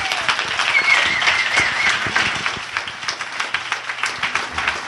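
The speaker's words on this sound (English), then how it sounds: "One more big round of applause for Peter." Audience applause for Peter Boghossian at a street epistemology Q&A event, steady dense clapping that holds at a fairly even level for the whole stretch.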